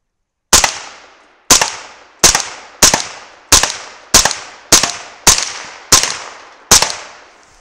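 A 300 Blackout rifle fires nine loud, sharp shots at a propane tank, spaced under a second apart in a steady, unhurried rhythm, each crack ringing out with a short decaying tail.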